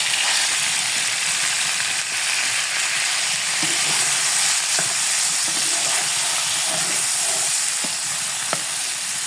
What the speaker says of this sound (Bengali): এতে 1 মিনিটের মতো আমি নাড়াচাড়া করে মশলাগুলো মিশিয়ে নিব।